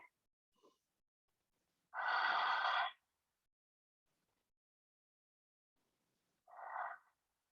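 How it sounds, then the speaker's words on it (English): Slow, deep breaths during a yoga stretch against a wall: one long, loud exhale about a second long, then a shorter, softer breath after a pause, close and alone in silence. "2 more breaths here"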